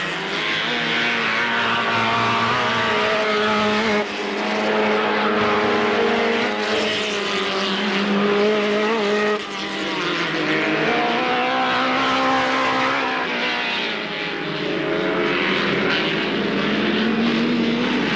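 Race cars at Alwalton Raceway in 1983 roar past in a loud, continuous engine drone, the pitch rising and falling as the cars accelerate and pass, with no voices heard.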